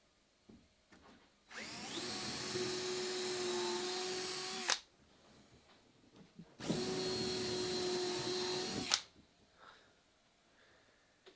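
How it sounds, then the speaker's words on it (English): Two long bursts of a high-pitched power drill whirring into wood from the outside of a Catalina Wherry boat build, each lasting a few seconds, with quiet pauses and small handling noises between them. "And then I'm going to come and drill from the outside"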